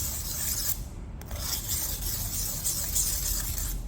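A kitchen knife rubbed steadily along a sharpening stone, a continuous gritty rasping scrape with slight pauses, close and fairly loud with no talking.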